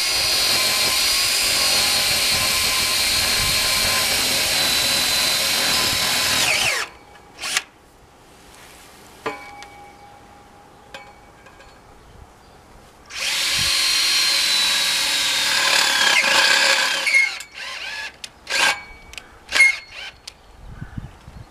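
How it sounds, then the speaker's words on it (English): A cordless drill bores through a board into a concrete-anchored fence post, whining loudly and continuously for several seconds, then stopping; after a pause with small clicks it runs again briefly, sputtering and cutting out as the weakening battery dies. "I can use the hole I just drilled in the board as a guide for the drill"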